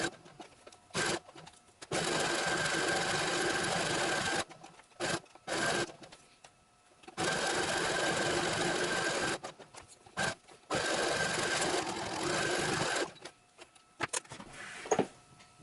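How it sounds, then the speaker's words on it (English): A sewing machine runs a zigzag stitch through Velcro in three long bursts separated by short pauses, with brief start-and-stop spurts between them. The loud, even whirring stays close and there is no talking. "So we're going to stitch Velcro on. Again, it's just a standard zigzag stitch."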